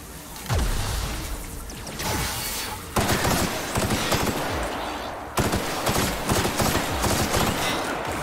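An N-ray weapon fires in The Outer Worlds on hard difficulty, with loud, dense bursts of energy gunfire, crackling impacts and whooshes that come in several sustained volleys and barely pause.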